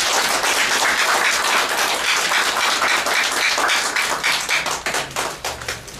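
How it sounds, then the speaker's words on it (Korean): Loud, close applause rings out at a charity foundation's inauguration ceremony for its new chairman, a dense burst of many hands clapping that thins toward the end into scattered individual claps. "박수를 부탁드립니다."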